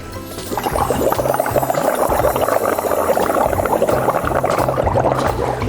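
Kids blow through straws into liquid at a bubbles party. The result is a continuous, loud, close gurgling and bubbling that holds steady for several seconds with no talking.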